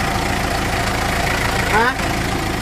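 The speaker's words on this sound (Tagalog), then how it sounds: "kapag binitawan yung clutch pedal, lumalakas yung ingay niya" A Mitsubishi L300 engine with delayed pull and roughness when the clutch pedal is pressed idles in a steady, close mid-pitched drone whose noise swells briefly as the clutch pedal is released, then settles back.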